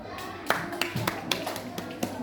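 Sharp hand claps ring out at uneven intervals, about seven in a row, with faint voices in the background.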